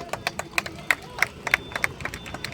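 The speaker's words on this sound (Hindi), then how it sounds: "तो मैं चाहूंगा हम सभी लोग एक बार जोरे ताली मारे हमारे इंडियन आर्मी के लिए" A crowd at a Tiranga Yatra rally honouring the armed forces claps for the Indian Army, sharp irregular hand claps from several people close by, with faint cheering and a background murmur.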